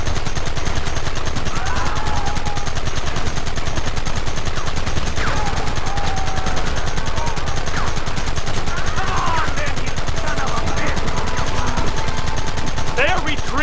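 Dense, constant gunfire from a Red Dead Redemption mission runs throughout a loud shootout, with shouting voices mixed into the battle noise.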